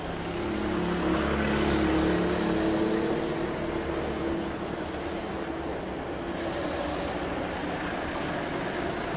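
Race cars at the Sutton circuit running wheel to wheel in close contact, a loud continuous engine roar with steady droning tones and a passing sweep, no talk over it.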